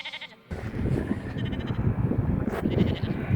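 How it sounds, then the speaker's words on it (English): Sheep kept by a shepherd bleat close by, overlapping wavering calls rising over a busy, rustling flock background that stays loud and continuous. "I love these sheep so much."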